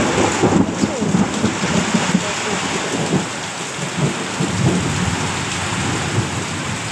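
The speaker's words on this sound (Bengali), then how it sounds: "বাইরে ঘুটঘুটে অন্ধকার এত পরিমাণে ঝড় হচ্ছে" Heavy rain pours steadily through a thunderstorm at night, with low rumbling thunder rolling beneath the dense hiss of the downpour; no talking is heard.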